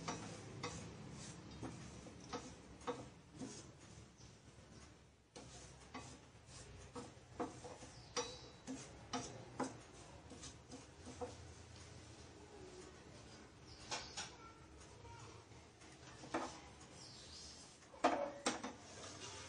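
Dry semolina stirred slowly with a spoon in a hot surgical stainless steel pan over a gas flame, giving soft, irregular scrapes and light clicks that are faint against quiet background noise.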